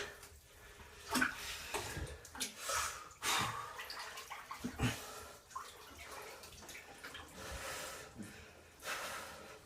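Ice from a single bag of real ice tumbles into a bathtub of cold water for an ice bath, giving irregular splashes, clinks and sloshing bursts at close range over a steady watery background, with no talking.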